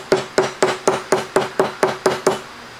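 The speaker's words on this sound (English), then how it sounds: "Grab my hammer, nice flat sole, and just pound it down." Nine sharp, evenly spaced hammer blows pound a wooden wedge in quick succession, each a crisp knock with a short ring, close and fairly loud.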